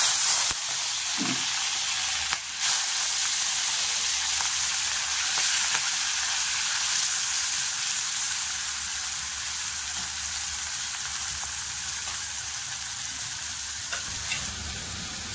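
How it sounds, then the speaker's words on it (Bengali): Prawns hit hot oil in a kadai and fry with a steady, loud, close sizzle and hiss that runs unbroken, with a few clinks and stirring sounds and no talking. "তেলটা গরম হয়ে গেছে, চিংড়ি মাছগুলো দিয়ে দিলাম।"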